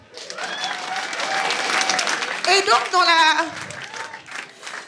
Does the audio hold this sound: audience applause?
yes